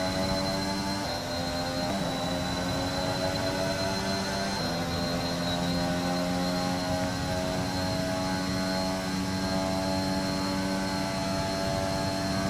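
Steady, droning engine whine with sustained tonal harmonics from a slightly worn Formula 1 car engine in the F1 2021 video game, Mexican Grand Prix, holding loud and constant with a brief pitch shift early on.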